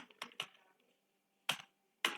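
Keys on a computer keyboard clack in a few sharp taps, a quick cluster of three keystrokes followed by a pause and two more isolated clicks, close and crisp with no talking.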